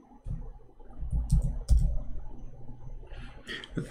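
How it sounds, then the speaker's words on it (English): Typing on a new computer keyboard produces a brief cluster of soft key clicks and thumps, fairly close and moderately loud, followed by quieter scattered taps. "the keyboard now is working because I ordered a new one"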